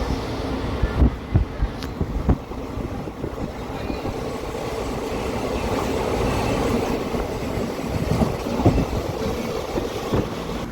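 Madurai Intercity Express passenger train running on tracks between Coimbatore and Madurai, heard from inside: a continuous loud rumble with rhythmic clickety-clack wheel beats and occasional sharp knocks, no talking.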